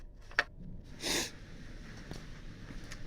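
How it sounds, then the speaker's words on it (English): A person sniffles in a cold workshop, with one sharp short sniff near the start, then a longer, breathier snort about a second later and faint follow-up breaths, close to the microphone. "Sorry, I'm sniffling a little bit."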